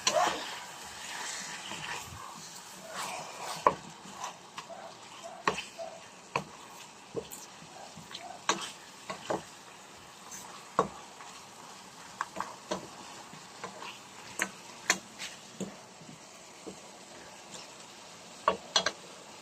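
Sweet spicy chicken with paprika sautéing in a pan gives a soft, continuous sizzle, broken up by frequent sharp clicks and taps from stirring against the pan.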